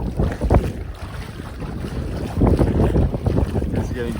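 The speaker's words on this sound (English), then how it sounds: "Right now it's just our feet are in the water." Feet wading through shallow sea water at a Bali beach retreat, with irregular close splashes and sloshing under steady wind noise buffeting the microphone.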